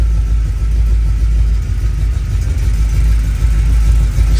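A GM Performance crate 350 V8 idles after a cold start, giving a steady, loud, low rumble with an even, continuous tone and no pauses or voices.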